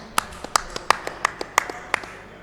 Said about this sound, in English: Let's get a round of applause for them again.